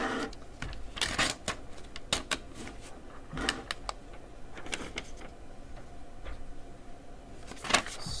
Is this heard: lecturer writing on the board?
yes